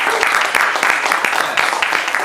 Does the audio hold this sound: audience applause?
yes